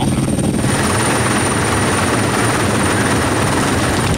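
A helicopter flies overhead at a French Foreign Legion site, its dense, steady rotor and engine roar loud and continuous throughout, with no talking.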